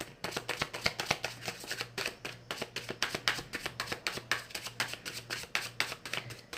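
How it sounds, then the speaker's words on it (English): A deck of tarot cards is shuffled in quick, crisp riffling bursts that repeat steadily and close by, with no talking. "as I'm, shuffling here to get this card"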